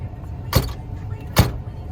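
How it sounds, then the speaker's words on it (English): Two short, sharp mechanical clunks about a second apart come from the trunk latch and lid of a 2003 Buick Regal LS as it is opened, close and clear over a quiet background. "I'm gonna open up the trunk."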